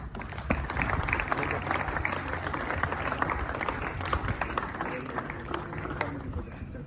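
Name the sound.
audience clapping at prize ceremony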